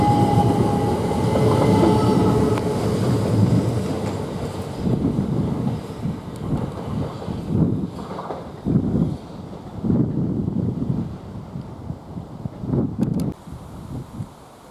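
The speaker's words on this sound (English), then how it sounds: "Now we've got another train coming in" A Class 375 electric multiple unit pulls into Ashford International station, its rumble and wheel clatter loud at first, then fading into lighter intermittent clunks and rattles as it slows.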